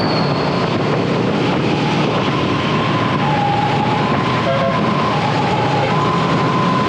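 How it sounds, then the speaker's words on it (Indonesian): An ambulance siren wails steadily behind a motorbike in heavy traffic on the Kalimalang inspection road near Bekasi, loud and continuous over dense engine and road noise. "Ambulan di belakang ambulan."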